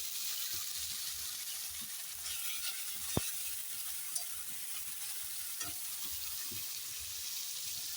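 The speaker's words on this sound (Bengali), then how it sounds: "টমেটো পেস্ট দিয়ে দিলাম একটু কষিয়ে নেব টমেটো পেস্ট দিয়ে" Tomato paste fries in a pan for ghugni, giving a continuous soft sizzle with occasional faint clicks of a utensil stirring, heard alone without talk.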